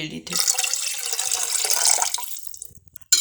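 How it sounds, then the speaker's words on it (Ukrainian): Half a glass of water, about 100 ml, poured into leftover pickling marinade for eggs, a steady splashing pour lasting nearly three seconds, close and fairly loud, before it cuts off and a brief clatter follows. "цей маринад, що залишився, ми додаємо пів стакана води, тобто 100 мл."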